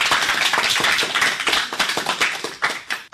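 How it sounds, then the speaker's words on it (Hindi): Schoolchildren clapping together at a school program to cheer on a classmate, a loud, dense burst of many hands that stays steady, then thins into scattered claps near the end. "सभी बच्चे ताली बजाकर अपने साथी का उत्साह बढ़ाइए"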